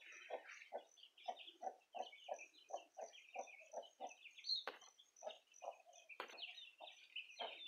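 A hen clucks to call her chicks, a rapid series of short, soft clucks in an even rhythm, fairly close and quiet, with a few higher bird calls mixed in.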